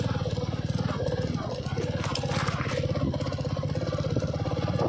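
A motorcycle engine runs with a rapid, throbbing putter, steady and fairly close, while someone speaks over it.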